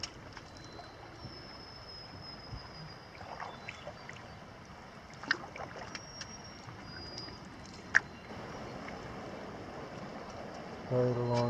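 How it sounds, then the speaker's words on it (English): River rapids along the Kawishiwi in the Boundary Waters wilderness rush in a steady, broad wash of running water, with a few sharp knocks and a faint bird call over it; no one speaks. "This is where the sound of running water is coming from."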